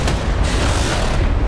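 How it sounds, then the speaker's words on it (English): A warship's main cannon fires in a naval combat video game, giving a loud, deep, sustained boom with rumbling low-end that fills the short moment. "it fired its main cannon"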